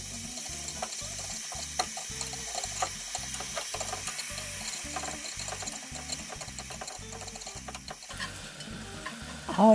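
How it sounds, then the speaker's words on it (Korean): Shredded, slightly fatty leftover bulgogi beef stir-fried in a pan: a constant close sizzle broken by rhythmic scraping strokes of a utensil, alone without talk. "불고기감인데 채 썰어져 있습니다. 이걸 살짝 먼저 볶아줄게요."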